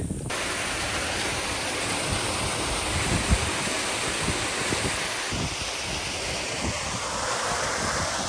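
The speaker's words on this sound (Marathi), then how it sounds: "मी आलोय फायनली त्या वॉटरफॉलला पोहोचलेलो आहे बघा" A waterfall reached on a trip to a village to catch crabs gives off a steady, dense roar of rushing water. It stays close and loud, with no voices, for the whole stretch.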